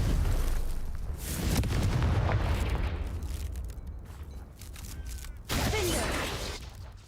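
Confringo blasting spell in Hogwarts Legacy going off as a heavy explosive boom with rumbling decay, then a second sharp blast with crackling debris, loud and close.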